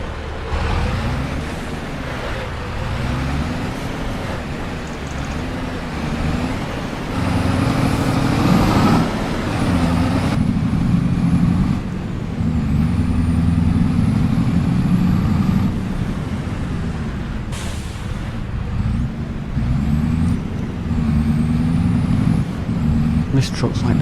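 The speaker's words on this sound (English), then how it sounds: "This truck's like the loudest thing on this farm. Everything else is decently quiet, but this is loud." A loud truck engine in the video game Farming Simulator 25 drones and revs continuously, its low rumble shifting in pitch as it accelerates and slows, with a brief hiss partway through.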